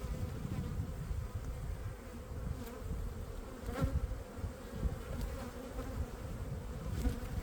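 Honey bees drone in a dense, continuous buzz around an open beehive while a second brood box is being added, close and steady throughout with no talking.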